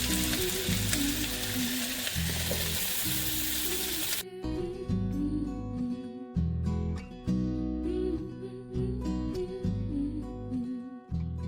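Tilapia fillets frying in a stovetop pan give a loud, continuous sizzle up close, with bursts of crackling oil and occasional stirring or shifting noises, no talk.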